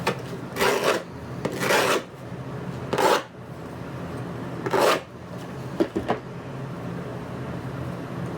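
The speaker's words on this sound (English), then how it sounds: "While I have the sandpaper here handy, I'm also gonna quickly smooth off the edges here a little bit." Sandpaper rubs along the edges of a wooden DIY stand in four or five separate rasping strokes, each about half a second to a second long and close by, with short pauses between them and no voices.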